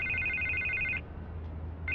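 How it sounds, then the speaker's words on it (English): Telephone rings in the Batman Telltale Series video game: one clear electronic ring burst lasting about a second, a short gap, then a second ring starting. "I can't get the phone to stop ringing."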